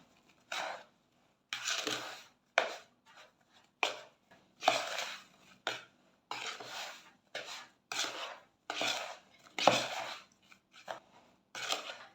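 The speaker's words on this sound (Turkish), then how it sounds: "Şimdi hemen böyle kabımın içine almış olduğum malzemelerimi bir karıştırmak istiyorum" Grated apple and other ingredients stirred in a bowl, giving rhythmic wet rasping and scraping strokes in short bursts separated by brief pauses, close and clear with no talk.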